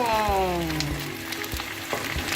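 Potato tortillas fry with garlic in a pan, giving a steady close sizzle with occasional soft scrapes from stirring.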